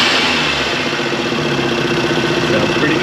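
A Suzuki Cappuccino's small engine idling, a steady, fairly loud mechanical hum with a slight uneven pulse throughout, close to the car.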